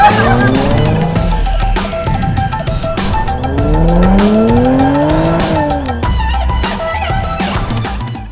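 A Porsche Macan GTS drives hard, its engine note rising and falling through repeated acceleration sweeps while tires squeal and skid, loud and close with no talk over it.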